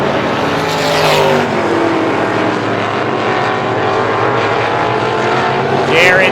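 350 super modified race cars roar around the Star Speedway oval, a loud, continuous engine drone with pitch shifting as cars pass, swelling again near the end as another car sweeps by.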